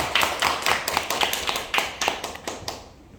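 A few people at a high school gathering clap in a loose, uneven rhythm, a sparse burst of applause that thins out and stops within a few seconds.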